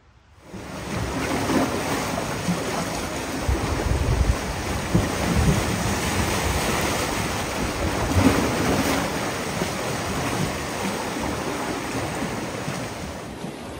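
Waves washing onto the Lake Superior shore at Isle Royale, a continuous broad roar of surf with gusts of wind buffeting the microphone, steady and fairly loud throughout.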